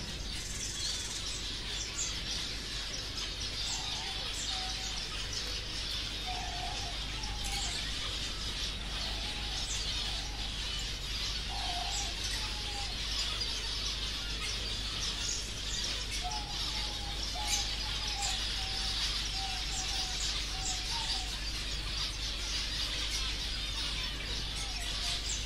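Pigeons calling and cooing faintly in a reserve, soft scattered calls repeating over a steady outdoor hiss and low hum, no voices.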